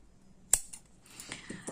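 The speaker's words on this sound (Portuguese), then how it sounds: "Puxo, e agora, é só cortar a pontinha." Scissors snip the yarn end of a crochet sock, one sharp close cut followed by a few faint small clicks and handling noises.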